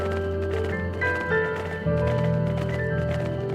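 Rhythmic hoofbeat-like footsteps of a mount running in Final Fantasy XIV, steady and close, with a tonal musical backdrop throughout.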